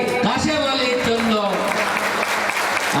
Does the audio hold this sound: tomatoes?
no